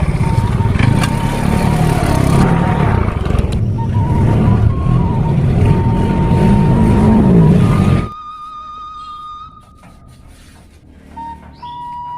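A motorcycle rides through a narrow alley, its engine droning loud and close for about eight seconds before cutting off, leaving a quiet background.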